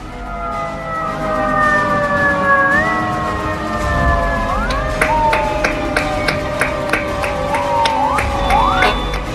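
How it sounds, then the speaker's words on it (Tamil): Several fire truck sirens wail together from fire engines lined up in a row, rising and falling in overlapping tones, with sharp horn blasts and a crowd clapping and cheering underneath. "தீயணைப்பு வாகனங்களை வரிசையாக நிறுத்தி சைரனை ஒலிக்க விட்டும்"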